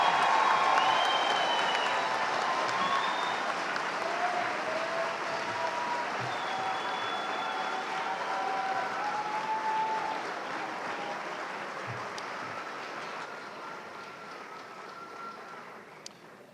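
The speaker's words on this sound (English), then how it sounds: "Round of applause, ladies and gentlemen." Audience applause fills a commencement ceremony hall, a steady dense wash of many hands clapping that holds throughout and slowly tapers toward the end.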